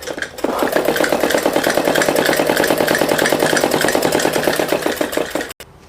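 A sewing machine runs continuously while stitching a Patiala salwar, giving a loud, close, rapid rhythmic whirring clatter for several seconds before stopping abruptly.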